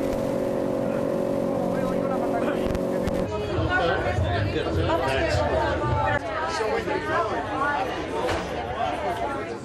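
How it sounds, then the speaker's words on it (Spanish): Inflatable motorboats speed back toward a ship at sea, a continuous outboard engine drone and water rush with chatter and voices mixed in, after a steady tonal hum at the start. "El capitán ordena por radio que las lanchas neumáticas se replieguen y regresen rápidamente al barco."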